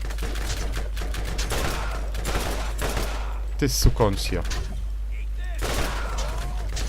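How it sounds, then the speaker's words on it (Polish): Gunfire in the video game Borderlands, bursts of rapid shots and blasts amid loud game action and music, with someone talking over it. "a tutaj trzeba strzelać i strzelać, nie?"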